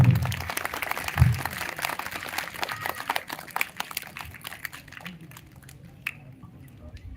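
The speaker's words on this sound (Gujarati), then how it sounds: "તાળીઓથી વધાવજો" Audience clapping at a live village prize-distribution event, a burst of scattered handclaps that starts fairly loud and thins out over several seconds, with faint murmuring voices underneath.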